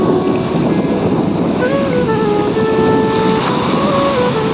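At high tide, water and waves wash in as a loud, steady roar, mixed with heavy wind buffeting close to the microphone and a faint tonal whine drifting through.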